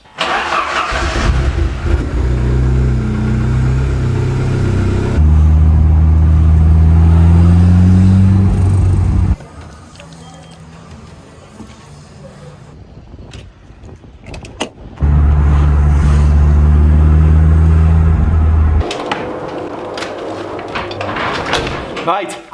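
Three-door car engine running while driving, a loud, close drone that rises and drops with gear changes across two long stretches, with quieter gaps between and voices talking at times.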